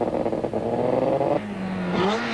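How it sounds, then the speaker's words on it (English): A Nissan Sentra rally car at the 1994 Castrol International Rally blasts past with a loud revving engine, the pitch rising and dropping through gear changes as it passes close by. "The Sentra of Hannes Grobler blasts past the stranded Golf"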